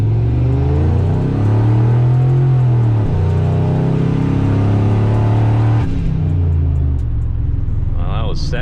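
A single-turbo Ford F-150 pickup launches hard in a 0-60 run on a cold 33-degree day. The engine roars loud and close, its pitch climbing and breaking at gear shifts before easing off near the end.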